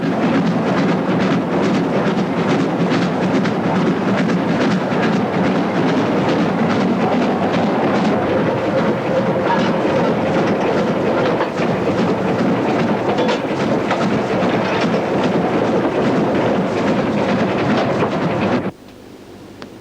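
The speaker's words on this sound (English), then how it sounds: "a Metropolitan steam locomotive at the head of a passenger train" A Metropolitan Railway steam locomotive hauling a passenger train rumbles past on the London Underground District Line at steady volume, a dense continuous roar with rhythmic chuffing and rail clatter that cuts off abruptly near the end.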